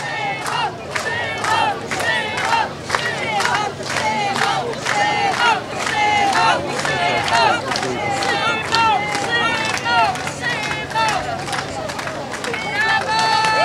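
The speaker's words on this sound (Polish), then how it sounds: "Wielkie oklaski dla niezależnego kandydata na prezydenta Szymona Hołowni!" Loud, close rally crowd cheering for presidential candidate Szymon Hołownia in Biała Podlaska, chanting in a steady rhythm with clapping and shouting that carries on throughout.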